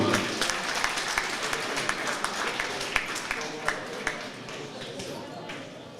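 A crowd at a junior boxing championship keeps up applause for a silver medalist, moderately dense clapping with scattered distinct sharp claps, lasting around six seconds.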